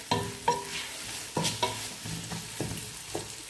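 Onions with salt frying in a pot, with repeated clanking stirs of a spoon against the pot over a steady sizzle, fairly close and with no voices.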